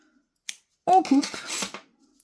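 Scissors snipping crochet cotton yarn, a brief crisp cut close up with a voice speaking over it.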